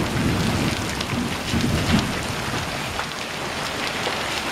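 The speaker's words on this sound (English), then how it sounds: "We're getting hail now." Dense hail and heavy rain pelt a surface in a steady, noisy rush during a severe thunderstorm, heard from a garage, with a low rumble of thunder beneath.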